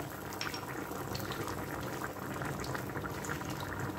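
Hake simmering in a pan for merluza a la gallega, giving a steady, close bubbling and sizzling hiss that holds evenly throughout with no voices.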